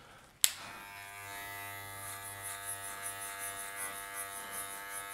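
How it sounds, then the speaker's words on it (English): Electric hair clippers fitted with a one guard click on and settle into a steady, close buzzing hum that wavers slightly as they work. "we're gonna put our one guard on our clipper"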